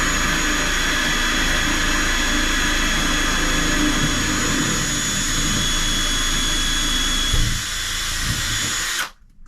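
A power drill spins at high speed as its bit grinds a hole through ceramic shower tile, a loud steady whine that runs nearly continuously before cutting off abruptly at the end.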